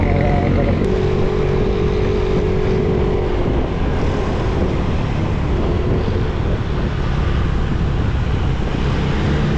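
Riding a new motorcycle along a hilly road toward Bukal and Kilangin Falls, the engine drones steadily under heavy, constant wind buffeting on the microphone, loud and unbroken throughout.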